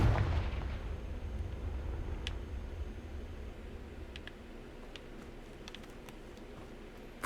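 A Confringo fire spell explodes in the Hogwarts Legacy video game, opening with a heavy booming blast that decays into a long rumbling roar, with a few sharp crackles layered over the tail.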